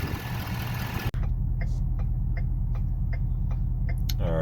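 A Ford truck idles steadily at close range with a low, even rumble, broken once by a brief dropout, with faint ticking and clicks over the drone.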